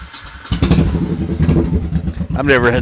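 A privately owned motorcycle engine runs loudly and close by, with a throbbing, revving rumble throughout as someone talks over it.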